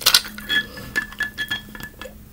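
Glass and dishes clink lightly while someone gets water, a few sharp bright taps and rattles spaced through the moment, close by and with no talking.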